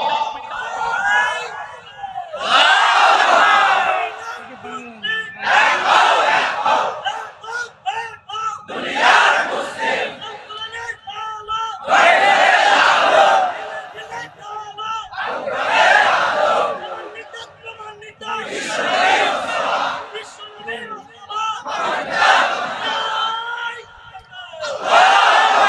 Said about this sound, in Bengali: এই যে তাকবীরের কথা বলা হয়েছে, জোরে তাকবীর দাও।